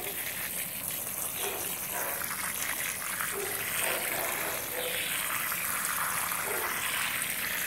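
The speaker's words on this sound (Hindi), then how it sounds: "इसमें पानी देने के लिए ये मुझे हल्का हल्का फुव्वारे से" Water sprinkled lightly from a watering can rose onto dry potting soil in a saffron pot, a steady soft splashing gush running continuously and close by, with no talk.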